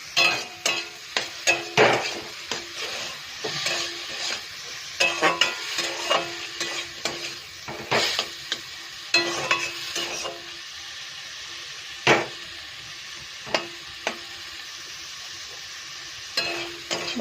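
Food seasoned with salt and turmeric fries in a pan while a utensil stirs and scrapes it, sharp irregular clacks and scrapes rising over a soft continuous sizzle, near and without talking.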